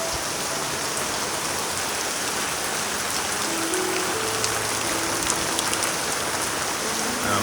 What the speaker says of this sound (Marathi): आज पावसाचा वरान दिवसभर आहे